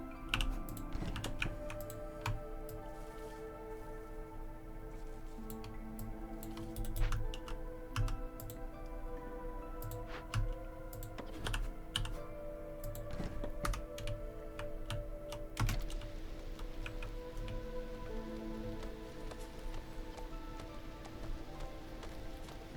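Computer keyboard keys clatter in quick irregular bursts of close, crisp taps while a strategy game is played, with faint game sounds beneath and no voices.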